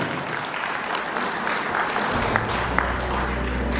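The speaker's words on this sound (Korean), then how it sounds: "여러분이 손흥민 위원을 큰 박수로 한번 부탁드립니다." An audience at a Korean-American association's homeland-visit evening event in Songpa, Seoul, breaks into steady applause that carries through the whole stretch at an even level, with no voices standing out above the clapping.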